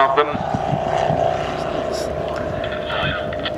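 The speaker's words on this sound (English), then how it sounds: "That lovely sound of those multiple cylinders there." A Douglas Skyraider's five-cylinder radial piston engine runs at an air show at Weston Park, a steady low throbbing drone that holds at a moderate level while someone talks over it.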